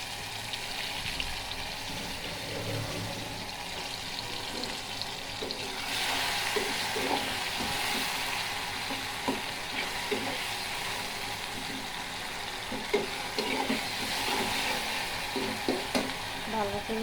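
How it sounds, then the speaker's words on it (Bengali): Spices with ginger-garlic paste sauté in a pan with tomatoes, giving a steady sizzle and frying hiss under scraping stirs and occasional clinks, continuous and close throughout. "ভালো করে মশলাটা কষিয়ে নেব"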